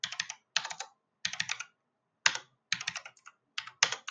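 Someone types on a computer keyboard in short, crisp bursts of rapid key clicks, close and clear, separated by brief silent pauses, with no talking.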